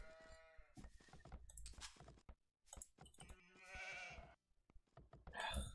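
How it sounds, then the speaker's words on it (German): Sheep in a video game bleat repeatedly amid busy, clattering game sounds, fairly quiet overall, with several bleats overlapping and a louder one near the end. "Wo sind denn die letzten Schafe?"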